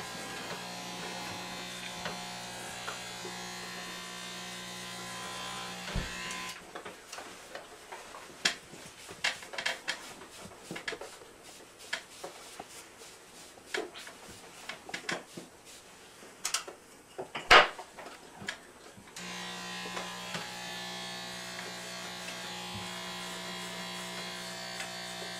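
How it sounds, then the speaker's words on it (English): Electric hair clippers buzzing steadily as they cut hair against the grain at home, loud at the start and end, with a quieter stretch between full of light ticks and handling clatter. "make sure the clippers are going against the grain to really assure that it has a uniform look up there"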